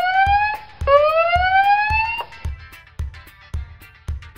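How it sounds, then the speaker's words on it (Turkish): Red toy fire truck siren sounding close and loud as a rising electronic wail that restarts twice, then cuts off, leaving a steady rhythmic low clicking thump underneath. "Onun mavi yanan sirenleri var."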